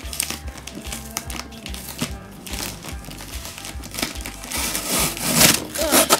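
Packing tape is pulled and torn off a PS3 box in a series of crackling, crinkling rips and rustles, close and irregular.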